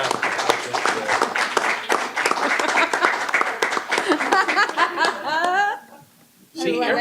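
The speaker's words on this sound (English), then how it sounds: "Everybody clapped for you." Scattered clapping and light chuckling from attendees at a college board meeting, mixed with overlapping talk, fading out briefly before voices return.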